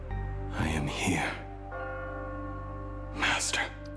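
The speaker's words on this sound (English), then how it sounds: "The bell tolls." An ominous bell tolls in the video game Honkai: Star Rail, deep sustained ringing with long resonant decay, while voices speak over it.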